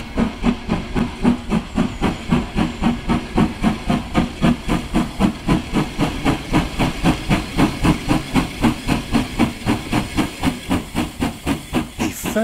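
Rhythmic chuffing of a steam locomotive on a heritage railway, loud and steady, with rapid regular exhaust beats and hissing steam throughout.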